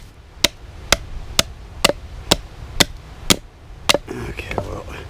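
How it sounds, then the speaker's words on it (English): A knife with a scandi grind chops into wood, eight evenly spaced sharp knocks about half a second apart, close and crisp, followed by rustling as the wood splits. "that scanty grind really helps split the wood"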